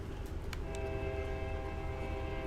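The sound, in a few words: coal train going by in the distance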